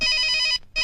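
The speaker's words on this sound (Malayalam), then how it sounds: "എന്റെ ഫോൺ പോയടാ. ബെല്ലടിക്കണുണ്ട്." A mobile phone rings loudly and steadily in a bright, repeating electronic tone, cutting out briefly before starting again.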